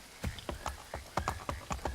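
Horse hooves clip-clop in a video game, about eight quick, crisp hoofbeats in an even trotting rhythm, moderately close and with no talk over them.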